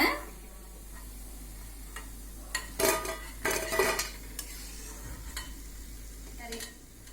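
Mixed vegetable pakoda fry in hot oil with a faint, steady sizzle, broken by a few clinks and scrapes of a utensil stirring in the pan.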